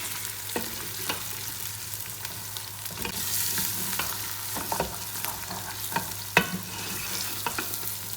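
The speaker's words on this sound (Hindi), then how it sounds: "अब मैं इसकी अच्छे तरीके से भुनाई करती हूँ।" Coriander and cumin roast in a pan for a goat trotter curry, a steady sizzle broken by irregular spoon scrapes and knocks, close and without speech.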